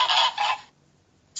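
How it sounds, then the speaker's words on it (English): A goose gives two loud, close honks in quick succession, followed by near silence and the brief start of another call at the very end. "Goose."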